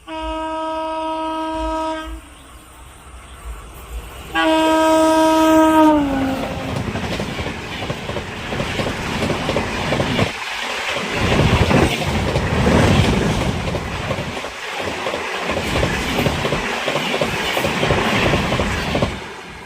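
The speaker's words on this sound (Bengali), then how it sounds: "আর একটা হাওড়া থেকে ট্রেন আসছে, তো বর্ধমান যাচ্ছে গাড়িটা।" A Howrah–Bardhaman train on the chord line sounds two long, loud horn blasts, then thunders past close by with heavy rumbling and rhythmic wheel clatter that continues steadily.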